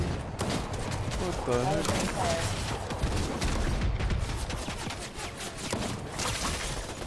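Gunfire in a Fortnite match as another player shoots, with rapid bursts and booms layered throughout, loud and close, while players talk excitedly over the shooting.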